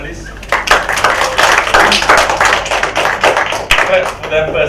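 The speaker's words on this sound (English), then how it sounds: "Round of applause for the panelists." An audience claps for a panel of speakers at a startup intellectual property conference, a short burst of loud, dense applause from nearby listeners that dips briefly near the end.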